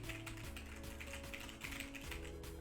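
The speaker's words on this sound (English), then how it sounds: "I can type on my keyboard" Rapid, aggressive typing on a computer keyboard, with a steady stream of close, dense key clicks and no pauses throughout.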